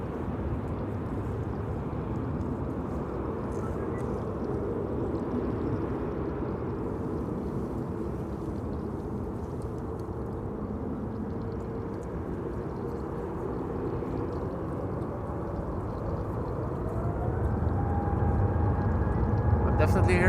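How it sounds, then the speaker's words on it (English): Big jet engines, likely on a KLM Boeing 747 at Schiphol, rumble steadily in the distance, then a rising whine builds as they spool up toward the end. "Definitely hearing something spool up, but that sounds more like something big or something with big engines"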